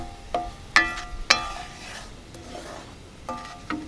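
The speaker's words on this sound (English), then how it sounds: "make sure to scrape the bottom to get the fodder up" A spoon scraping and stirring across the bottom of a pan of thickening brown-sugar steak sauce for New York strip, giving a few sharp scrape strokes with soft simmering in between.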